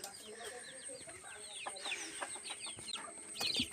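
Several chickens cluck and chatter nearby in a quiet yard, soft irregular calls overlapping with faint background noise and occasional sharper squawks.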